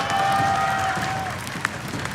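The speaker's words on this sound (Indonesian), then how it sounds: "FPL Arena, mana tepuk tangannya?" Arena crowd at an esports match, a Mobile Legends game between RRQ Hoshi and Aura Fire at the FPL Arena, giving moderate applause and cheering, a few tonal whistles or noisemakers over it and one sharp clap near the end.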